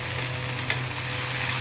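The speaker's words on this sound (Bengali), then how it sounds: "পেঁয়াজ টমেটো দিয়ে ভাজা ভাজা করে নেব" Onion and tomato frying with a spiced paste in a pan, a dense steady sizzle close up with a brief stirring scrape midway, no voices.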